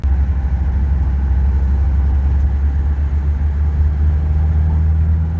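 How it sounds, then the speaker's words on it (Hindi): Car engines idle in a stalled traffic jam on a Tehran road, a loud, steady low rumble that stays unbroken throughout at close range. "ये देखिए, यहाँ भी ट्रैफिक फंसा हुआ।"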